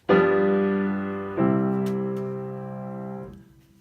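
Two sustained piano chords forming a jazz five-one progression, the first struck and left ringing, the second played about a second later and decaying slowly until it fades out.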